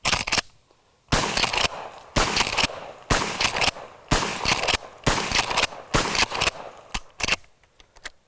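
Seven loud shotgun blasts from a Chinese reproduction Winchester 1897 pump shotgun, fired at a steady pace about one per second, each sharp report followed by the clack of the pump action cycling.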